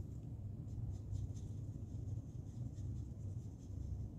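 Marker or coloured pencil colouring a small bird's beak on a simple handmade Stampin' Up! card, a faint continuous scratchy rubbing with light strokes under a low background hum.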